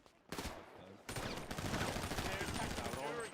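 Gunfire in the video game GTA 5 during roleplay, a rapid burst of automatic shots followed by sustained loud firing mixed with a voice talking over it.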